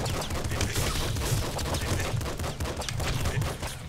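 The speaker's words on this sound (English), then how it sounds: "What is this machine gun?" Rapid machine gun fire from the video game Nuclear Throne rattles continuously in dense, evenly spaced bursts over a throbbing low game soundtrack, loud and unbroken throughout.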